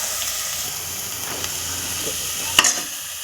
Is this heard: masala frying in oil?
yes